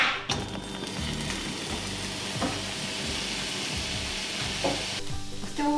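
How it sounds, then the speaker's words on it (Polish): Steady, busy sizzling of sliced peppers and onion frying in a pan, with occasional stirring scrapes and taps, close and continuous with no talking. "papryka z cebulą już się smażą"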